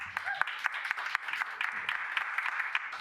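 Audience applause at a comedy show: a dense, steady crowd clapping that fills the whole stretch at moderate loudness, with a few sharper claps standing out and faint voices mixed in.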